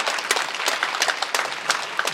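A church congregation applauds with steady, dense clapping at moderate loudness for about two seconds, rising in a few brighter bursts.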